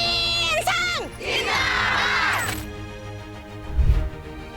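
Thousands of Mitanin health workers protest in Raipur, a crowd of shouting voices swelling in bursts with a high cheer near the start, then fading to a murmur before a low rumble near the end.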